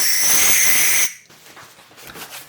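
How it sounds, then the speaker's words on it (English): Brake cleaner spraying from an aerosol can for a quick clean of an FTX DR8 RC car chassis: a steady close hiss for about a second, then it stops, leaving quiet handling noises. "brake cleaner"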